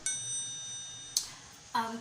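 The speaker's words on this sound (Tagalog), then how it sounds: "hit the notification bell so you will get updated every time I have a new video" A bright notification bell chime rings steadily for about a second, followed by two short, sharp ding-like hits, clear and alone with no talking.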